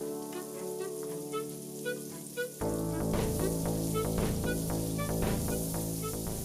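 Onion hits rendered bacon fat in a pan and bursts into a loud, steady sizzle that continues close and crackling after a quieter start.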